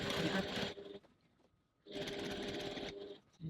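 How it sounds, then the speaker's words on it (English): Sewing machine re-stitching a crossbody bag seam, a quiet, steady whirring run that pauses briefly and then resumes for another sustained burst. "I'm going to re-stitch my entire seam"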